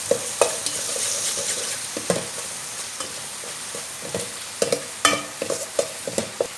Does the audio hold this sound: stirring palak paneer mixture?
yes